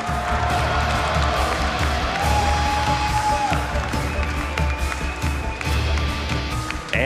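A large BlizzCon 2013 arena audience at the StarCraft II WCS Global Finals semi-finals cheers for the player Maru, a dense, steady roar of crowd noise with scattered claps and a loud announcer voice ringing over it.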